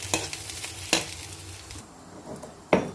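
Chopped onions sizzling in hot oil tempering in a pan, a soft steady frying hiss punctuated by a few sharp spatula scrapes and clinks against the pan.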